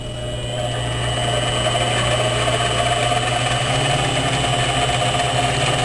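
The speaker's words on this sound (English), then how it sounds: "That moaning sound you hear is my lathe spindle bearings, which are in need of replacement." Worn spindle bearings in a small X2 mini mill moan as the motor and upgraded fan run, a steady droning hum with constant tonal whine, near and continuous without talk.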